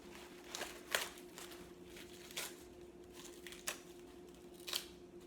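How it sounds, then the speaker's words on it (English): Washed and dried red leaf lettuce is torn into pieces by hand, giving a few soft, crisp leafy rips and crinkles at irregular intervals over a steady low kitchen hum. "We have our washed and dried red leaf lettuce, and we're going to tear pieces."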